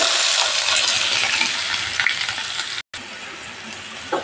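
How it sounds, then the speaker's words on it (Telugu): Mustard seeds, cumin, chopped onion and green chilli hit hot oil for a carrot fry, giving a loud, steady broadband sizzle and crackle with a brief cut to silence near the end. "ఆయిల్ వేడైన తర్వాత కొంచెం ఆవాలు, కొంచెం జీలకర్ర, తర్వాత కట్ చేసి పెట్టుకున్న ఉల్లిపాయ, పచ్చిమిర్చి వేస్తున్నాను."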